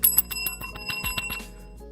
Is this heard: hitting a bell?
yes